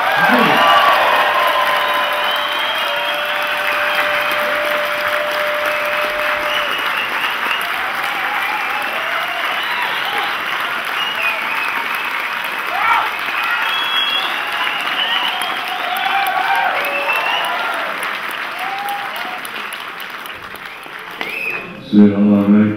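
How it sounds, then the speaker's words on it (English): An audience at a Howard Marks stage show and Q&A claps fast and cheers loudly for over twenty seconds, then the applause fades toward the end. "Please show your appreciation by clapping your hands really fast and roaring really loudly"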